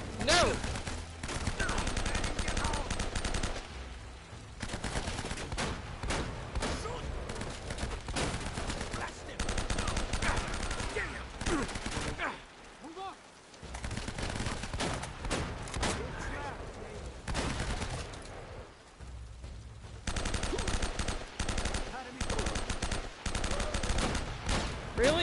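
Dense, sustained gunfire from a video game as thousands of rounds pour into a single enemy, loud and nearly continuous with brief lulls, with voices talking over the shooting.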